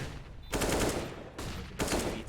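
Rapid bursts of automatic rifle fire in a Counter-Strike esports match, two loud dense volleys separated by a brief gap, with a final burst starting near the end; no voices.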